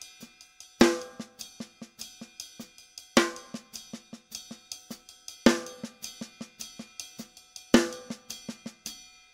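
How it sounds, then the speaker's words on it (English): A drummer plays a funk bembe groove with the right hand on the ride cymbal bell and ghosted snare notes in the left, four bars of bright bell accents over a steady run of soft snare taps, close and alone. "So I'm going to play the right hand on the ride cymbal bell, and the left hand's going to stay on the snare drum."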